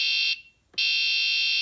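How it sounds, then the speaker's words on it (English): A medical device alarm at level 3, warning that a patient's air hose has come off, sounds a loud steady electronic tone that cuts out briefly and then resumes. "Now I'm shifting to alarm level 3, saying that a patient's air hose has been disconnected."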